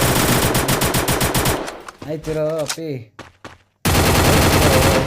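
Rapid bursts of automatic gunfire from the Free Fire video game, loud and close, break off for a man's brief spoken interjection, then resume as dense continuous shooting.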